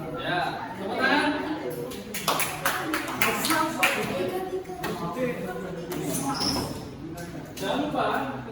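A class of students clapping their hands during a coding lesson, with bursts of claps near and fairly loud, mixed with chatter and a little laughter.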